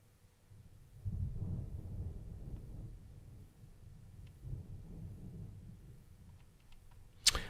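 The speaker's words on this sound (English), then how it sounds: "that loud thunder you're hearing" Thunder from a passing thunderstorm rumbles low and deep in rolling waves, fairly faint and distant, ending in a sharp, sudden crack.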